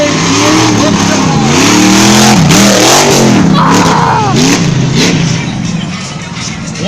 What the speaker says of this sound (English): that V8 powered Ford Ranger coming through the woods